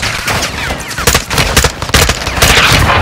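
Loud, dense gunfire from the Modern Warfare 2 video game, rapid bursts and sharp shots packed closely together in a sustained fusillade with booming impacts.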